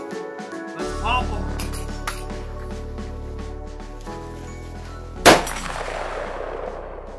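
SKS rifle rounds hit an AR500 NIJ IV steel armour plate, a sharp loud crack with a ringing clang near the end, over a steady background hum and some faint taps.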